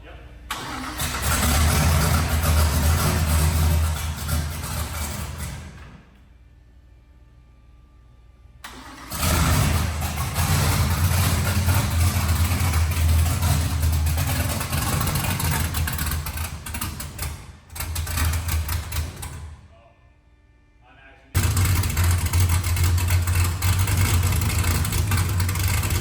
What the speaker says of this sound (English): just had our first successful fire up and I am pumped. Car sounds nasty.